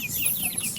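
Soft, quick clucking and chirping from chickens on a farm that also keeps pigs, faint and a little distant, continuing through the short moment.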